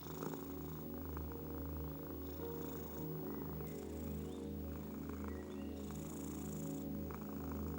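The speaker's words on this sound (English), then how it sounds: "The cat remains beside you, its presence warm and grounding. And as it purrs," A domestic cat purring close up, a steady low rhythmic rumble that pulses with each breath and continues unbroken and calm.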